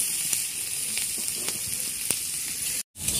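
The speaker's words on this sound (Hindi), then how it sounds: "इसी तेल में प्याज भून दे रहे हैं" Onions frying in oil in a pan, a steady close hiss with faint pops that cuts off abruptly near the end.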